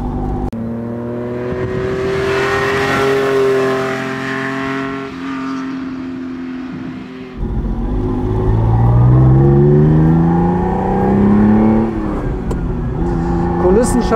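1973 Ferrari 246 GT Dino sports car driving on the road, its engine droning loudly from inside the cabin with rising revs, a gear change midway, then climbing pitch again while people talk over it.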